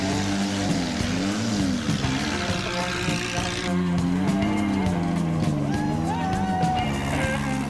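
Several 4x4 jeeps grind up a dirt trail during a club off-road event in Irati, Paraná, with steady, rising and falling engine drone close by and no talk.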